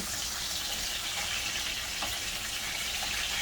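Lamb steak searing in a hot pan just after flipping, a steady hissing sizzle running evenly throughout with faint crackles and no talk.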